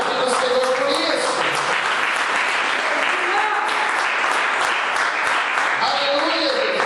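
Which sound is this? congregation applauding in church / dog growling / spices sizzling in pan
congregation applauding in church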